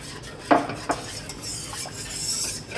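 A spoon stirs malted yeast into a vegan pizza mixture in a bowl, giving two clear knocks against the dish and then soft scraping with a light hiss.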